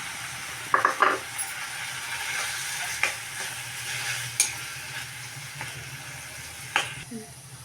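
Chopped tomato frying in a little oil with fenugreek leaves, stirred in a pan: a steady low sizzle with a few sharp utensil scrapes and clicks, moderately close, with no talking.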